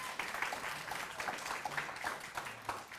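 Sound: applause

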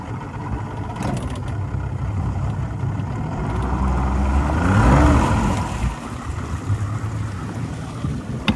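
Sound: Boston Whaler boat engine reversing off floating dock

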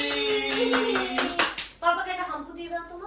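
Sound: hand clapping

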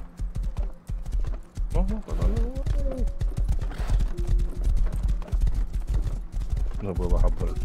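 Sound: horse galloping, clip-clop hooves, from the video game Rust

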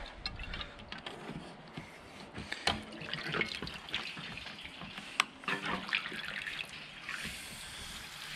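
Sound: fuel pouring through fuel separator into jerry can

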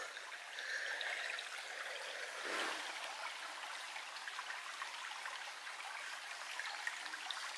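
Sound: brook trickling down from a hill

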